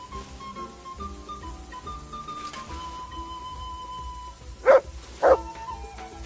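Mutt, a dog in the Kingdom Come Deliverance 2 video game, gives two short, sharp barks in quick succession over a soft, layered music bed, with no talking.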